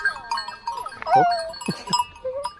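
Goats, sheep and lambs bleat close by at a forest campsite, several short wavering calls overlapping one another, with a bit of human voice in the background.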